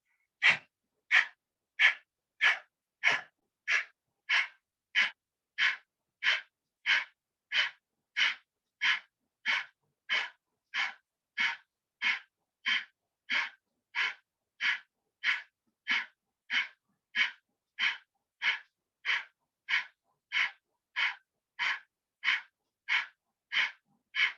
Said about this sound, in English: holding your breath, you go down and look up and do Kapalbhati for 30 seconds